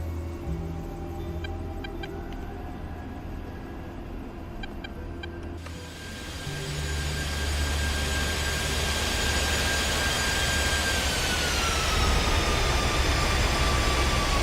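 Jet engine starting up with a hot start in a flight simulator game: a steady whine climbs and thickens into a loud, sustained roar with rising tonal pitch, alone without talk.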